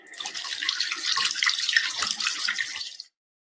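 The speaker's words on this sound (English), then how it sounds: "she put some warm, soapy water into a large wooden basin" Continuous splashing and trickling of warm, soapy water in a large wooden basin, steady and close for about three seconds, then it cuts off abruptly.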